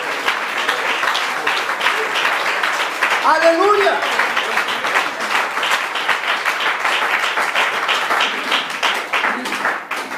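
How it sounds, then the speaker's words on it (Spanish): A church congregation claps along during a sermon, sustained, rhythmic applause with a voice shouting praise partway through. "Claro que podemos aplaudir al Señor."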